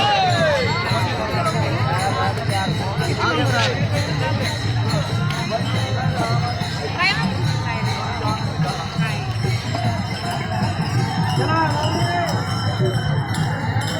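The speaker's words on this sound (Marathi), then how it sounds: "तर खूप गर्दी असते" A large dense crowd at a Tukaram Maharaj dindi pilgrimage procession, steady loud hubbub of many voices with clinks and chatter, continuous throughout.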